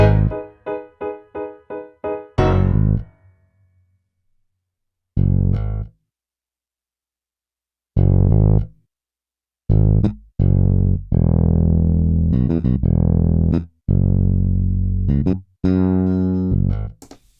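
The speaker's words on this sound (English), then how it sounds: "I really love using this plugin on a bass. Just kind of adds a little bit of distortion." Distorted electric bass plays a string of short plucked notes, then sustained gritty notes separated by pauses, loud and alone.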